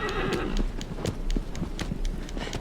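Horse galloping in Shadow of the Colossus, hooves clip-clopping in a quick steady rhythm close up, with a neigh or whinny near the start over a continuous game background.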